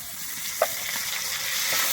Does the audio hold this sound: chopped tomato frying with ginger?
yes